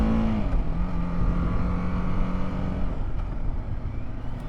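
A BMW G 310 R motorcycle being ridden, its engine droning steadily at close range with a steady tone that drops slightly, plus wind rush.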